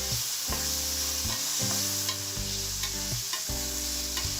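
Chopped tomato stirred into frying onion and ginger-garlic paste for a fish curry, a steady bright sizzle with rhythmic spoon strokes scraping the pan every second or so, close and alone.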